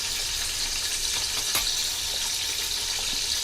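Curry leaves, coriander and spices frying in hot oil in a pan for Telugu fish curry, a steady close sizzle with a faint crackle, no talking.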